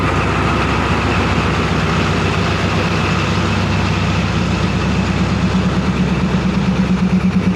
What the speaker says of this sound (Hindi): तीन 3000 हॉर्स पावर का लोकोमोटिव है ये।